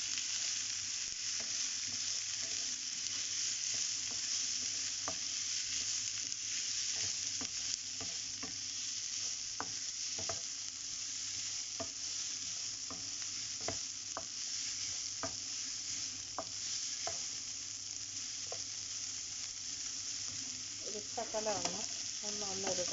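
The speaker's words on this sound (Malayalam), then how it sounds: "ഉള്ളി ആഡ് ചെയ്ത് കൊടുത്തു. ഇനി ഇതൊന്ന് നല്ലതായിട്ട് ഒന്ന് വഴണ്ട് വരണം" Onions sauté in a pan as a steady sizzle runs throughout, with light scraping of a spoon stirring them and a brief louder clatter near the end.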